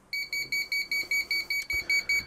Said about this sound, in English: if it detects that the fan is not running or running under 800 RPM, then the alarm will sound.